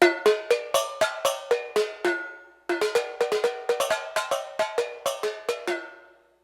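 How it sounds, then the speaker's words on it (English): Tin cans struck as percussion in a quick rhythmic pattern, bright metallic ringing hits at varying pitches from a low-to-high set, a short pause midway, then playing resumes and fades out. "The primary instruments of this piece are tin cans."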